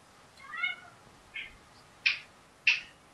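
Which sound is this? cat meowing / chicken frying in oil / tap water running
cat meowing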